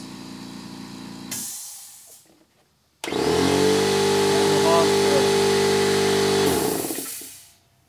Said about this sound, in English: I can tell you that's pretty common for compressor noise level.